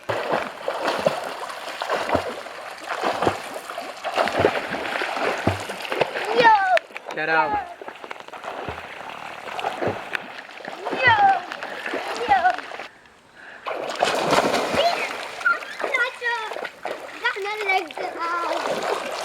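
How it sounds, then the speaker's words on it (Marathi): Water splashes repeatedly in bursts as people bathe outdoors in green river water during Gauri Ganpati immersion, with voices talking and a child's chatter mixed in over the splashing. "या अशा हिरव्यागार पाण्यामध्ये आपण आंघोळ करत असतो"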